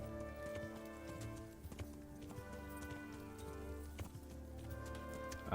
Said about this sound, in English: We have a proper war horse here.